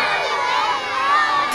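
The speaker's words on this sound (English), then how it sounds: "The kids see their device or their friend's device fall and cheer for the survivor." Children cheer and shout excitedly at a school egg drop event, a loud burst of young voices rising together.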